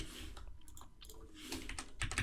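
Rapid typing on a computer keyboard, an irregular run of light clicks and taps at close range throughout, with no voices.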